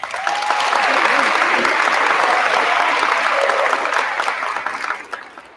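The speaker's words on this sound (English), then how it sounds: "Let's give all of these students a big round of applause." Audience applauding students at a 6th grade awards day ceremony, sustained clapping from a full room that swells quickly, holds, then tapers off near the end.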